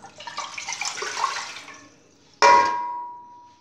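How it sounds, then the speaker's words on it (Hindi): Water splashes and pours into a cooking pot on a stove for a couple of seconds, followed by a sharp metallic clang that rings out and slowly fades. "पतीला मैंने चूल्हे पे चढ़ा दिया है और इसके अंदर पानी जाएगा 3 गिलास।"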